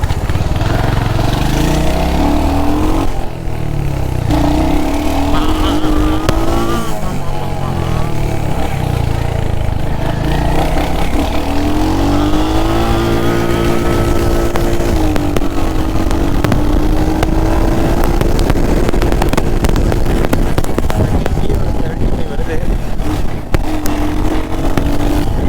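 Royal Enfield Hunter 350 motorcycle accelerating, a loud, close engine roar whose pitch climbs and drops repeatedly through gear changes, continuous for the whole stretch.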